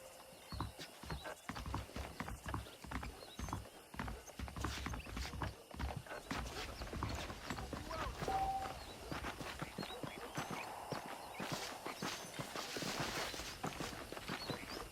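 Horse hooves clip-clop steadily on the ground in the Red Dead Redemption video game, with a horse whinnying partway through and occasional clanking gear, all moderately close and continuous over a faint background.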